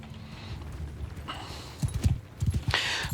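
Several horses' hooves clip-clop in Mount & Blade II: Bannerlord, with irregular clusters of hoofbeats growing louder over a battlefield ambience.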